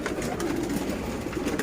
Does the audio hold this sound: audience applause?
no